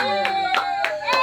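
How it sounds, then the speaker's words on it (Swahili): Four evenly spaced hand claps ring out over a sustained tonal background, each one crisp and close. "Makofi."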